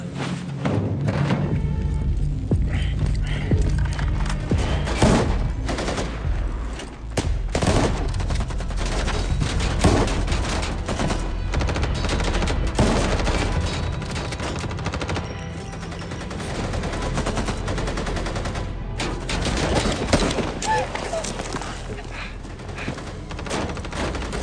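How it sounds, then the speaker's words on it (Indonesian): A film gunfight outside a house with police involved brings dense, sustained bursts of automatic and single gunfire, loud and close, with thuds among the shots and a narrator's voice over the action. "baku tembak pun dilanjutkan di luar rumah antara Sean, para jamet, dan juga pak polisi yang jajan tadi"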